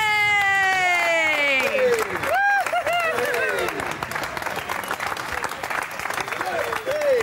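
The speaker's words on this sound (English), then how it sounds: "give them a round of applause." A studio audience applauds loudly after a Robot Wars battle, with a continuous wash of clapping and cheering. Rising and falling tonal sounds and voices cut in over the applause.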